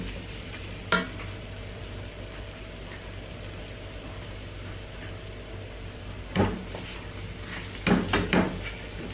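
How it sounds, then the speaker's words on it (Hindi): Dates roasting and softening in a pan, a quiet background sizzle broken by a few sharp scrapes of stirring, one early and a cluster near the end. "दूसरी जगह पे ये मैं खजूर भूनती हूँ"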